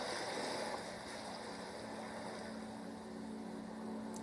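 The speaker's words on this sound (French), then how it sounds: "et le bruit des vagues qui s'échouent sur le sable" Ocean waves washing onto a sandy, deserted beach, heard as a soft, steady wash of surf with gentle rise and fall, fairly distant and low in level, with no voices.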